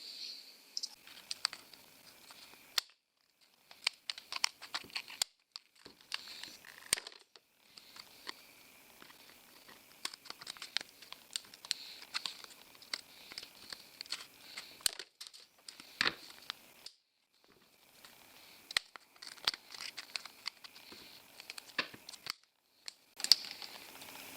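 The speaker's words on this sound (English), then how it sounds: "So got my scissors, let's get chopping." Repeated snipping of scissors through stiff plastic for a fairing repair piece on a Honda CT110, close and crisp, in uneven bursts of cuts separated by short pauses.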